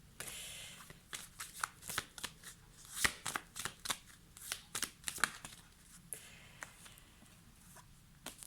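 A deck of cards is shuffled for a fortune-telling reading, quiet rapid riffling bursts and flicks repeating irregularly close by, with no talk.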